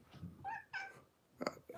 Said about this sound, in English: my cat's kind of in the way